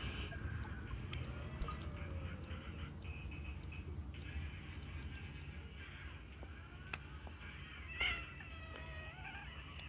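A pet cat meows faintly several times in a room, its thin calls rising over a constant low hum and background noise, with a few sharp clicks and a louder bump near the end.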